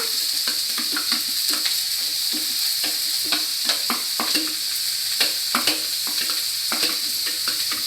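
Vegetables, onion, curry leaves, ginger and capsicum fry in a kadai with a loud, constant sizzle, while a spoon clinks and scrapes the pan in an irregular rhythm, no speech.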